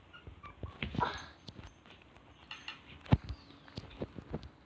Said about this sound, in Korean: 강아지 혼자 생쇼하고 있는 것 같은데 맞나요?